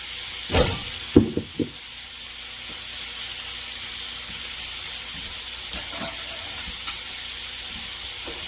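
Oil in a pan sizzles under a low, steady hiss, with a few sharp clatters from a utensil stirring near the start and a lighter scrape later.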